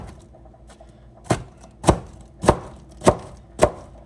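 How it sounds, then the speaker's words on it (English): A knife chops baga (rutabaga) salad into smaller pieces on a board, giving five sharp, evenly spaced thunks, close and clear against quiet. "So I'm going through and I'm chopping it up smaller."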